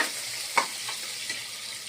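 Chopped onion fries in well-heated oil for khichdi, a close, even sizzle with one brief stirring scrape partway through.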